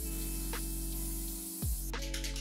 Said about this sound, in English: I am just gonna spray the excess foundation onto my towel again